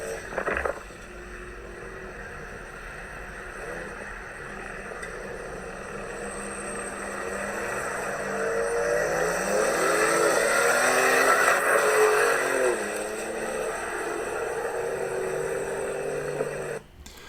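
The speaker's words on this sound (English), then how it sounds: "You can hear the car spool up." Two trucks, a 2021 Ford Bronco and a Ford Raptor, drag racing on sand, heard from a distance: engines spool up and rev with rising, then falling tones, building to a louder pass before easing off.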